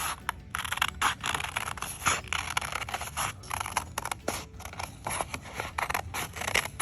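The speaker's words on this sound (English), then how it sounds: "I'm gonna start cutting out this pumpkin. Just following the line." Scissors snip through folded paper while cutting out a pumpkin shape, a close, steady run of short crisp cuts and scraping slides with brief pauses, no talking.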